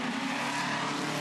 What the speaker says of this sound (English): Gary Carson has another 3 kilometres between he and his first win in the V8 Ute Series.